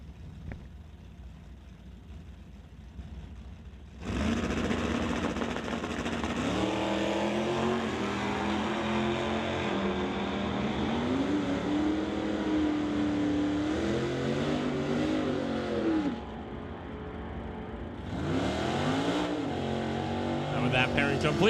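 A Plymouth Barracuda and a Dodge Dart rumble and rev at an NHRA Summit ET drag race, with engine roar rising and holding loudly for long stretches under an announcer's voice.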